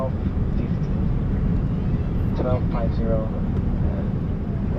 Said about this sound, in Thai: เราก็กำลังบิน กำลังจะเข้าไปที่เบอร์ลินนะคะ